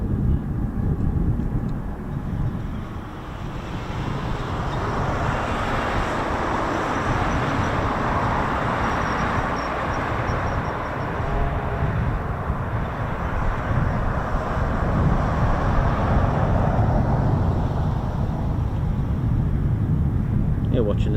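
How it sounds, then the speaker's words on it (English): A jet aircraft passes over RAF Mildenhall, heard as a steady, broad engine roar that holds at roughly constant loudness for the whole stretch, with faint wind and outdoor ambience underneath. "jet is still up."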